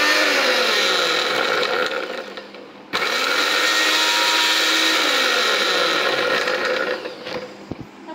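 A Vision Cyclone Pro 4-in-1 blender runs loud and close, its motor whirring steadily, dipping briefly before restarting and then winding down near the end.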